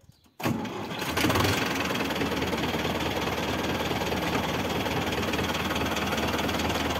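A tractor-mounted field crop sprayer working a cotton field runs its engine steadily and loudly, starting after a brief quiet moment and then holding an even, continuous drone throughout with no voices heard.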